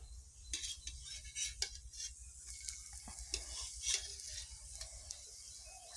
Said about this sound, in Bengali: এই যে বড়াগুলো ভাজা হচ্ছে, এপাশ ওপাশ লাল লাল করে।